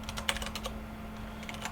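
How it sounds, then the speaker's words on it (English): Quick bursts of clicking keystrokes on a computer keyboard, close and fairly quiet, coming in short irregular runs with a brief pause between them. "I cannot type today."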